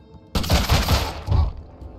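A tank in the video game Mutant Year Zero opens fire with a sudden loud burst of rapid, rattling shots that rolls on for about a second, dies back, and then flares again briefly before fading out.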